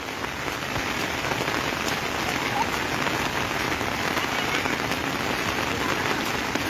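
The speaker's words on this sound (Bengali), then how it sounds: "এই যে নরসিংদী কি পরিমাণে বৃষ্টি, আজকে 3 দিন যাবত এমন বৃষ্টি।" Heavy rain pours steadily in Narsingdi, Bangladesh, a dense, even hiss of drops drumming on surfaces throughout, with no voices.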